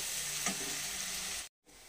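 Onions sizzle steadily in a pan for a chicken and potato curry, a close, continuous hiss with faint stirring clinks, then a brief cut to silence before the frying resumes.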